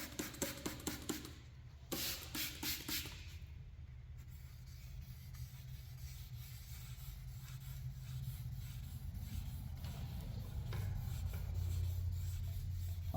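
Light sanding on the clear coat of a 1968 Camaro gives a soft, steady rubbing hiss, preceded by a few quick scrapes, faint and close with no voices.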